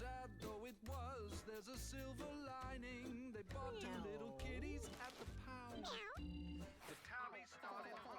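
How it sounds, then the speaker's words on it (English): A young kitten meows repeatedly in short, rising and falling cries, close and fairly loud, with a person talking in between the calls. "That cat can't go on an adventure yet."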